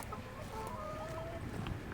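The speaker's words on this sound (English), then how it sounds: "Hello chickens!" Chickens cluck and murmur faintly in the background of a backyard garden in Sydney, Australia, with some low rustling noise and no clear talking.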